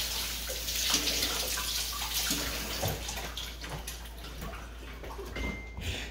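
Tap water running over a melon as it is washed in a sink, a steady hiss of splashing water with faint handling noises, fairly quiet and close, with no talk.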